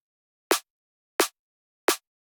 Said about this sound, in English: that's now the fundamental for the post-processing of the snare drum